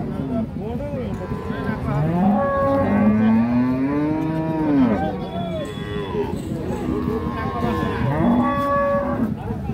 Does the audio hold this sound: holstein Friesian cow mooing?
yes